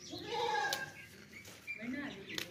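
A goat with two kids bleats at a livestock market in short wavering calls over a busy background, with people talking nearby and sharp knocks in between.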